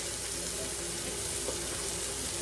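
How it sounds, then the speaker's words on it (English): Onions, celery and red pepper sautéing in pork chop drippings, a steady broadband sizzle that holds evenly throughout with a faint clink near the middle. "we're going to kind of saute these up in that pork chop drippings a little bit"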